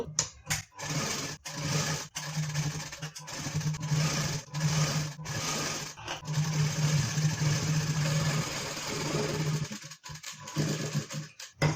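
A sewing machine stitching a wedding blouse cut from a peacock-coloured bordered saree, running in long whirring bursts with brief stops between, close and fairly loud.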